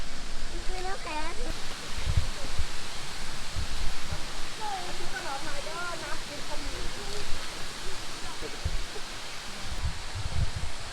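Mae Kampong waterfall in Chiang Mai gives off a steady, broad rushing roar from close by, while someone talks over it.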